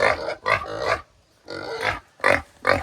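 Pigs in a farm pen grunting in a run of short, loud, close snorts and grunts, separated by brief pauses.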